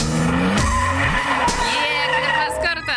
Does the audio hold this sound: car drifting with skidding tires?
yes